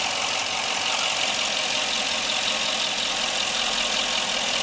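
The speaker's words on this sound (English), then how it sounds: "Alright, so you can see the engine runs really good. It doesn't misfire," A car engine recently converted to CNG idles on normal liquid fuel, a smooth, even mid-pitched hum with a bright hiss on top and no misfires or chugging, steady and close throughout.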